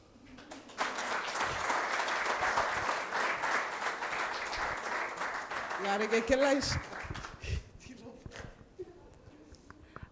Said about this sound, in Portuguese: com forte aplausos